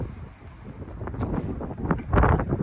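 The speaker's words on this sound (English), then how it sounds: "The wind has been crazy here in Michigan." Severe windstorm in Michigan, strong gusts buffeting the microphone with low roaring rumble, swelling louder toward the end, no talk.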